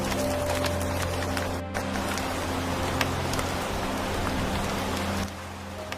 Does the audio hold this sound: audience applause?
no